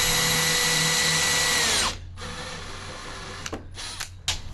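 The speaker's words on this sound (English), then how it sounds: "then countersink my hole" A drill countersinks a screw hole in hardwood decking with a steady high whine that winds down, followed by a few short bursts of the bit spinning.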